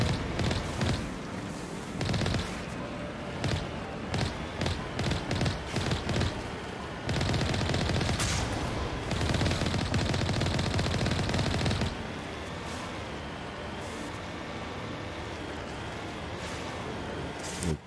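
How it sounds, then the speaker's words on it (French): Machine-gun fire and single gunshots from a distant shooter in the Mass Effect video game, rapid bursts and steady volleys rattling over a constant background drone, loud and sustained with a few quieter gaps. "Il tire de tellement loin."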